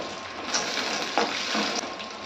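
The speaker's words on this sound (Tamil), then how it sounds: "இது கூட இந்த வேர்க்கடலையும் சேர்த்து ஒரு நிமிஷம் போல் வதக்கலாம்." Peanuts sizzle and fry in hot oil with onions in a pan, a steady close crackling hiss with a few soft stirring scrapes.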